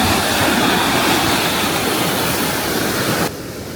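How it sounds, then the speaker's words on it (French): Big ocean waves crash at a surfing beach in Senegal, a loud, dense, continuous roar of surf that cuts off abruptly near the end. "on est du côté de la mer où les gens ils font du surf. Il y a des grosses vagues hein"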